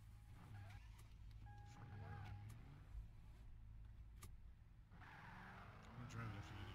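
A car driving in the SantosRP video game, a steady engine drone with brief skids and shifts, heard under people talking throughout.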